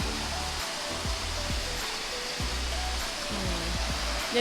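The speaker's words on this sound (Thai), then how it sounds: "ตรงนี้ก็จะมีน้ำตกขนาดนี่ขนาดกลางๆนะคะ ไหลตลอดปี" A year-round, mid-sized waterfall on Doi Inthanon, Chiang Mai, Thailand, pours steadily in a constant rushing roar close by, with faint low voices underneath.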